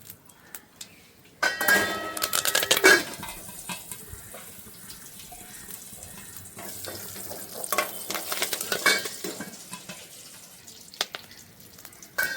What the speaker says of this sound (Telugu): ఫ్రెష్ కరివేపాకు మన చెట్టు దండి 2 రెమ్మలు కరివేపాకు వేసుకుంటుండా